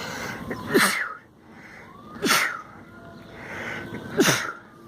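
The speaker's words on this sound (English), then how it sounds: "I'm going to sneeze" Three loud sneezes come one after another at roughly even intervals, close to the listener, with quiet breathing between them.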